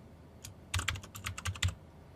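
Name typed on a computer keyboard in an AWS lab session, a quick close burst of about ten key clicks in an uneven rhythm with no talking.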